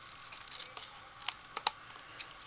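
Paper is trimmed for a Valentine card front, a few faint, sharp clicks and snips scattered over a quiet background, with no one speaking.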